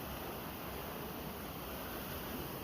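A steady, broad roar of rushing water at Saruguda waterfalls fills the whole stretch, unchanging and continuous.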